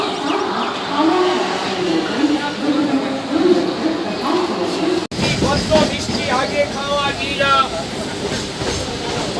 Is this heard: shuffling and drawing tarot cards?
no